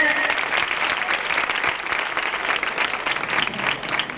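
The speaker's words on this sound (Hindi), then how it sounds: "ये जनरेटर चलाने वालों के लिए ढेर सारी तालियां बजा दे" A dense, steady round of clapping from a large crowd at a foundation day gathering, given for the people running the generator. It stays loud and continuous for the whole stretch without letting up.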